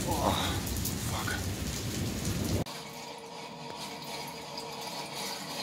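During a June thunderstorm, heavy rain pours down with a rumble of thunder, and the sound abruptly drops to a quieter indoor patter of dripping water and rain, with faint voices.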